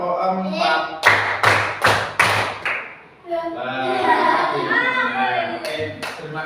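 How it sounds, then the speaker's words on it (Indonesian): Children in a classroom slap their hands on their desks in a steady rhythm, about four loud, sharp, evenly spaced thuds close by, before a voice starts speaking. "Siapkan tangan di atas meja. Tepuk 1, tepuk 2, tepuk 3, tepuk 4."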